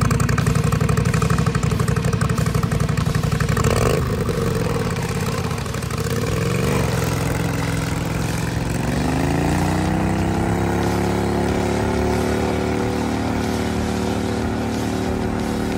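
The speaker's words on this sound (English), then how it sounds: "and this is the gravel peel out" A vehicle on turf tires revs hard on gravel, a loud, steady engine roar that rises in pitch and holds as the tires spin, with grit spraying underneath throughout.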